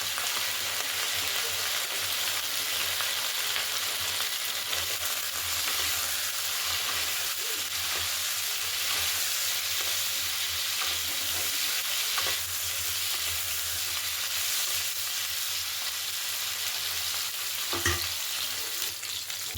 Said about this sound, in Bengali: ফুলকপিটা লাল লাল করে ভাজা হয়ে গেছে